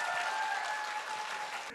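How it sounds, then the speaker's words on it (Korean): Brief burst of audience applause at a Korean film talk event, steady dense clapping from a crowd that fades slightly at the end, with no speech over it. "여러분 박수 한번 부탁드리겠습니다"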